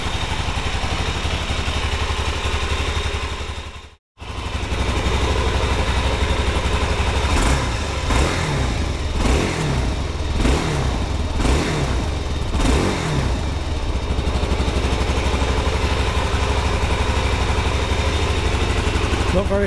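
A cold Suzuki DR-Z 400 SM UK-model motorcycle engine idles close by with a steady loud throbbing rumble, cut by a brief dropout early on, while a voice speaks for a few seconds over it.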